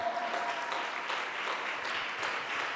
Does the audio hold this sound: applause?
yes